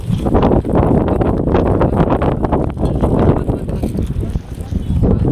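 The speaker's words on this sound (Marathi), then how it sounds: "वाऱ्यासोबत आहे हिरवंगार वारं" Strong wind sweeps across a mountain campsite at Karhe Ghat, a loud, gusty roar buffeting the microphone without a break, with voices partly buried beneath it.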